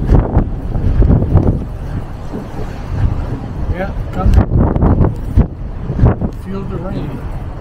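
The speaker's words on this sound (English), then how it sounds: "It's windy and rainy." Wind buffets the microphone on an open-top hop-on hop-off tour bus in rainy Porto, making a steady rumbling roar with gusty peaks while people talk and call out over it.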